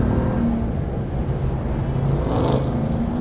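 A 2021 Ram 1500 TRX pickup runs off-road on a gravel road in Baja mode, a loud, steady engine roar with rumbling tyres and wind buffeting the microphone. The sound is close and continuous, with no talk.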